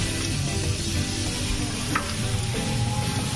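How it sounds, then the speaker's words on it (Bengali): Ginger paste sizzles and fries in hot oil with spiced masala for a pangas fish dish, a steady close crackle with soft scraping of stirring throughout, no talk. "আদা বাটাটা দিয়ে আমরা 2 মিনিট মতো এটাকে নাড়িয়ে নেব।"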